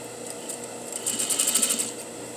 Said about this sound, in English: then you're just sewing right down the middle of where this was gathered